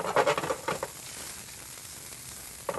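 A garlic clove drops into a hot pan during a turkey medallion cook, giving a short burst of crackling sizzle that settles to a faint, steady hiss, with a brief flare near the end.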